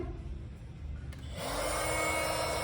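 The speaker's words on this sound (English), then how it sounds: "So I'm gonna give it a try for the very first time, notching out this stud right here" A Makita XMT04ZB cordless oscillating multi-tool notches a wooden stud. After a quiet moment it kicks in with a loud, steady, close buzzing that holds to the end.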